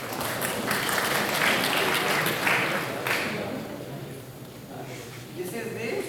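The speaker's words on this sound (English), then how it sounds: "I think you should give a clap to me." A classroom group claps during an introductory entrepreneurship lecture, a sustained rain of hands that fades toward the end, with speech mixed in.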